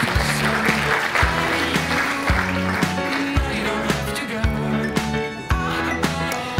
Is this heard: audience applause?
yes